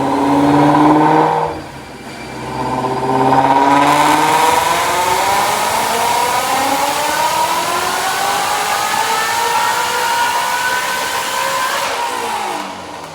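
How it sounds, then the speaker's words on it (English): A Whipple-supercharged 2018 Mustang GT350 with headers and an OPG exhaust revs hard on a Dynojet dyno, dipping briefly before a long climbing full-throttle pull that is loud and close, then cutting off sharply. "But check out this dyno pull."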